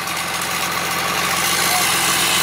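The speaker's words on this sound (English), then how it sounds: "Idling speed, baby." A Cummins diesel engine idles close by with a steady, loud low rumble and a regular mechanical knock that runs unbroken for over two seconds.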